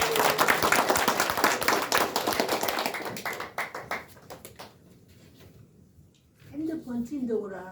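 An audience at an indoor company gathering breaks into loud, dense applause. The clapping fades over a few seconds while someone speaks over a microphone.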